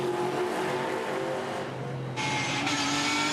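Race cars charging around a circuit at a Townsville tin-top touring car race, with an Aston Martin pushing forward; a broad, steady engine roar holds throughout, with a brief dip before the noise swells back up.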